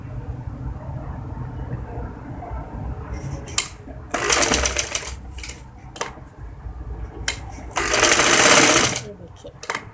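A sewing machine stitches a baby frock in two loud runs of fast, steady whirring, with quieter pauses between them while someone speaks over the work.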